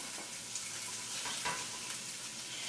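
Pork tenderloins sizzle steadily in a hot pan with softened shallots, a close, even frying hiss with faint crackles and no voices.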